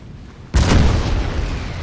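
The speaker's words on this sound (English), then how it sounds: "The artillery here doing their bit." In the Napoleonic-era battle game Napoleon Total War, artillery cannons fire with a sudden loud boom after a quiet moment, followed by a rumbling, decaying roar.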